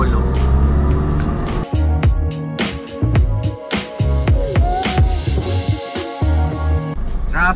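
Road traffic on Sumulong Highway in Antipolo, with vehicles passing close by in a series of loud whooshes and engine surges over a continuous rumble. There is no clear talk over it.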